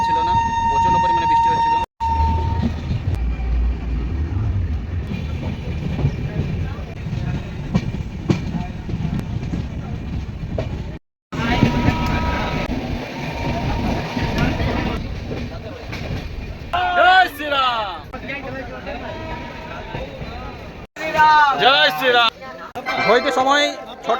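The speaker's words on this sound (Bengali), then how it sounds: "আর আমাদের ট্রেন এসে দাঁড়ালো অযোধ্যা ধাম স্টেশনে" The Jammu Tawi Express passenger train pulls into Ayodhya Dham station with a loud rumble and clickety-clack of wagons, then a shrill wavering horn or whistle; voices can be heard over the noise.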